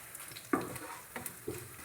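Urad dal dropped into hot oil already holding dried red chillies and curry leaves, a quiet brief sizzle with a few soft stir clicks and spoon taps, no voices.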